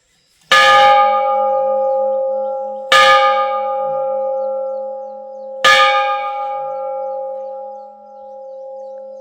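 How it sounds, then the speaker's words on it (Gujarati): A large temple bell of brass or five-metal alloy is struck three times at an ashram. Each strike rings loud and close with a sharp attack and a long humming, resonant decay that overlaps the next strike. "આ ઘંટનો અવાજ જે છે એ મારા અંદાજ પ્રમાણે ત્રણથી ચાર કિલોમીટર સુધી સંભળાતો હોય છે"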